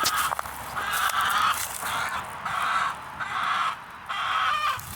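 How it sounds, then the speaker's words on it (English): Chickens in a small backyard coop give repeated squawking, honking calls in steady bursts of roughly half a second to a second, moderately loud and close, with no talking. "You can see little chickens here."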